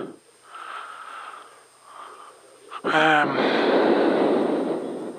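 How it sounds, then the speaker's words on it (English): Soft breathy exhales come first, then a sudden harsh rush of breath blasts straight into the microphone, loud and noisy, sustained for a couple of seconds, during race commentary at Brands Hatch. "Sorry about breathing at the mic there, it's probably really loud"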